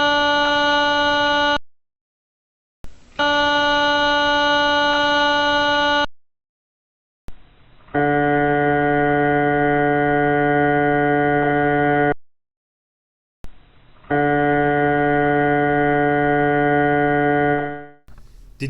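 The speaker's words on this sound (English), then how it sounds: "These low tones or whispers is what you want to be listening for." A White's Surf PI Dual Field metal detector sweeping on a beach gives steady electronic tones in four separate bursts with short silences between, the first two higher-pitched and the last two lower, the low tone signalling gold.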